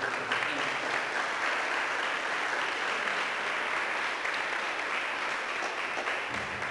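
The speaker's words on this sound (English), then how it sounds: "I want everyone to give a round of applause to Amanda Bauman" Steady applause from an audience at a candidate forum in Buffalo, New York fills the whole stretch, a dense, even clapping that neither swells nor fades.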